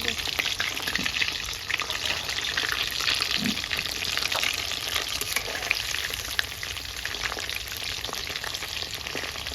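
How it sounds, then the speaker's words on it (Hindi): Chicken lollipops deep-frying in a pan of hot oil, a loud, continuous hissing bubble close up, steady throughout with faint background voices underneath. "तो फिर से मैं तेल में डाल रही हूँ एक एक करके।"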